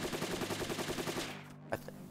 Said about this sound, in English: that's the first time in a long time he's fired that submachine gun